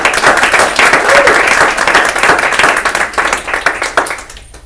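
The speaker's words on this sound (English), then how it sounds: "Please give him a very large applause." Loud, sustained applause from a Toastmasters-style meeting group honors the session's Toastmaster, dense clapping that holds steady and then tapers off in the final moments.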